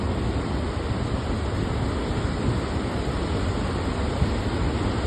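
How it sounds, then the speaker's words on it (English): Ocean waves crash against a cliff face at Morgan Bay beach, heard as a steady, dense roar of surf with wind buffeting the microphone throughout and no voices. "the waves crashing against that cliff face over on the other side there"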